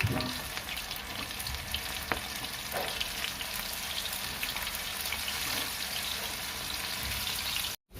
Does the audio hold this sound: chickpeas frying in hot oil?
yes